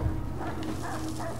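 Short dog yips and whimpering barks from a guard dog in the Assassin's Creed 3 video game, a brief close burst over a steady game background.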